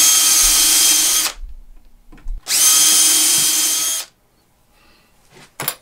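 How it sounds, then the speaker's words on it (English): A power drill whirs loudly in two bursts of about a second each while drilling pilot holes for a hinge on a box lid, separated by a short pause, followed by faint handling noise. "fit our hinge and drill the pilot holes and mount it with our screws"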